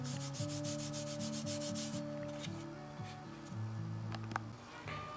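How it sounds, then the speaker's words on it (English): Rhythmic rasping strokes of sandpaper on a flat block over the wood of a model airplane wing repeat quickly and steadily, then slow and soften, close by with no talking. "amount of sanding right on my flat part of the table with a flat block"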